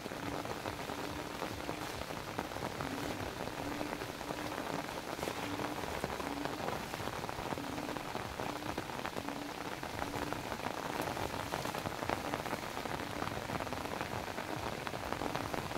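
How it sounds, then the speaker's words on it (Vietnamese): Heavy rain falls on a lychee orchard in a dense, continuous roar of drops, loud and even throughout, with no voices. "không để sát được cây quả vải bởi vì trời đang mưa rất to."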